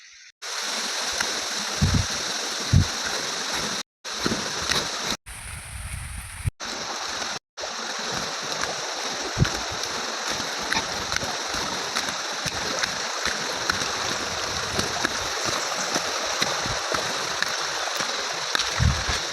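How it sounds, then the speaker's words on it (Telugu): Small streams run between hills near Chinturu on a rainy trek, giving a steady close rush of flowing water that briefly drops out a few times. No voices are heard. "చిన్న చిన్న నీటి ప్రవాహాలు ఉన్నాయి"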